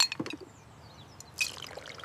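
Cola pours briefly into a glass, a trickling splash that stops, followed by a second burst of fizzy pouring sounds.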